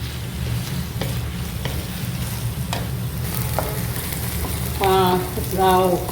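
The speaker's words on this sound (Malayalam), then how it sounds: "അതൊരു നല്ല ഒരു ഗോൾഡൻ ബ്രൗൺ ആകുന്നത് വരെ, ഒത്തിരി ഡാർക്കല്ല, ആ ബ്രൗൺ കളർ ആവുന്നിടം വരെ അത് സോട്ടേ ചെയ്യുക, വഴറ്റുക." Onions sautéing until golden brown for a mutton curry, a steady sizzle with repeated stirring scrapes against the pan, close and continuous, with faint voices or tones near the end.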